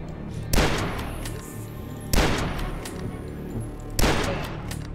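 Gunfire in a first-person shooter game, three loud bursts spaced about two seconds apart, each a sharp blast with a ringing tail that fades before the next shot.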